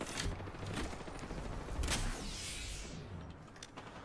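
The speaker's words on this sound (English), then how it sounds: "Opening fire on our prey." Video game gunfire crackles in dense, continuous bursts with a mechanical edge, moderately loud and steady throughout with no voices.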